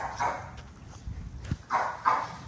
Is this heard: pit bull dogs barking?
yes